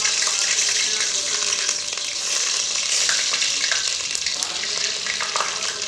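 Chicken handi cooks in a pot with a continuous bright frying sizzle and bubbling hiss, fairly loud and close, with faint clinks in the background.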